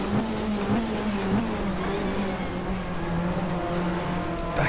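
Phoenix Motorsport Peugeot race car engine in the GTR2 racing game on Eastern Creek, a steady loud droning engine note holding high revs, with slight pitch shifts and no break.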